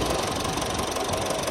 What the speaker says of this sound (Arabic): لاحظ كيف يتغير صوت المحرك